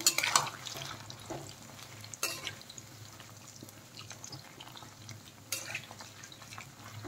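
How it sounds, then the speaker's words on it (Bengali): Chicken pakora pieces fry in hot oil in a quiet, steady sizzle, broken by a few sharp scraping and clinking stirs at the start and in the middle. "বেশ লাল লাল করে ভেজে নিতে হবে"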